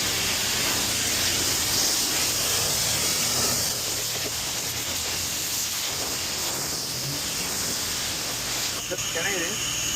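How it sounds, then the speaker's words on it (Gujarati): A pressure washer sprays a car at a car wash, giving a loud, steady hissing spray that runs without a break. Voices speak faintly underneath. "જો પ્રેશર વોશ સ્ટાર્ટ કરી દીધું છે."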